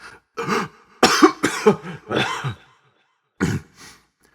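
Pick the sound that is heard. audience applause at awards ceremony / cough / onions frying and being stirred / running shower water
cough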